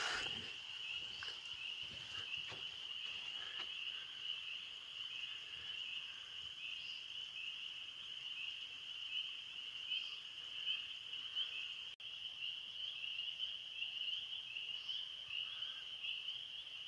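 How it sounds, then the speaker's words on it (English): Spring peeper frogs call at night in a dense, continuous high-pitched chorus, steady and moderately loud with a few louder individual peeps standing out, no voices. "All the peepers are out."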